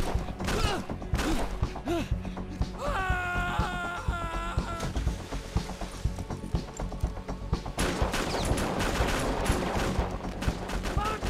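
Gunfire during a heist in a video game, with bursts of shots layered over a dense, busy game soundtrack and some voice, continuing steadily across the clip.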